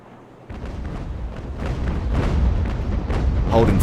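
Ship cannons fire in the naval battle game Ultimate Admiral: Age of Sail, a rolling series of heavy booms building over a dense battle din, growing louder toward the end.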